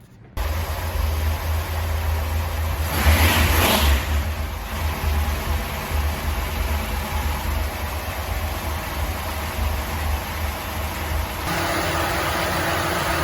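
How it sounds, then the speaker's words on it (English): A 1954 Ford Country Squire engine runs steadily at close range, a smooth, even mid-pitched idle with a brief rise in revs early on, otherwise constant and unaccompanied by speech. "the engine's running nice and smooth"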